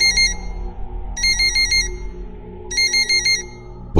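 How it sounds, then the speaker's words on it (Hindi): A phone ringtone rings loud and close in three repeated electronic bursts with short pauses between, over a low background hum and no voices, used as a tense horror-story effect. "तभी उस शांति को भंग करते हुए पुष्कर का फोन बजा।"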